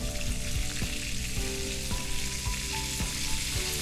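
Entrecôte beef steak frying in butter in a hot pan, a steady loud sizzle broken by sharp crackles and pops, with no talking.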